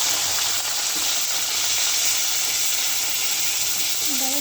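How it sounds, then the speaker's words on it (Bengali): Okra frying lightly in a pan, a steady, close hiss of oil sizzling throughout with faint stirring sounds and no talking. "এখন যে ঢেঁড়স হালকা ভেজে নেব।"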